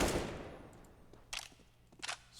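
Rifle gunfire in Counter-Strike on the Mirage map during a pro match, heard as a faint opening burst that decays, then two short sharp bursts of shots later, quiet and somewhat distant.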